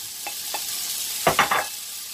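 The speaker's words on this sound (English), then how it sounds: "Using the same oil and the same pan that I browned my meatballs off in, there goes the peppers and my onions" Peppers and onions hit hot oil in a pan already used for browning meatballs, letting out a steady close sizzle. A few soft stirring scrapes come first, then bursts of louder crackling as the vegetables land.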